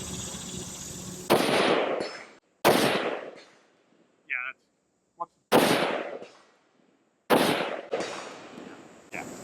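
Rifle shots from an IWI Tavor X95 fired at steel targets 200 yards away ring out as loud, sharp cracks, about four of them spaced a couple of seconds apart, each decaying into echo, with faint metallic pings between.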